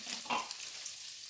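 Chicken dropped into hot butter in a pan, a brief close crackle and hiss that fades quickly to a soft sizzle, with no voices.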